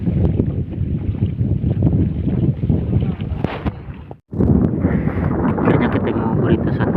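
Strong wind at sea roars over a boat during octopus hunting, a loud continuous buffeting that cuts out for a moment near the middle before resuming at full force.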